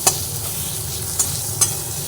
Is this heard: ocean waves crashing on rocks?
no